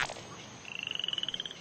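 A frog croaks in a quick rattling series of about fifteen evenly spaced pulses, close and clear, after a brief soft noise at the start.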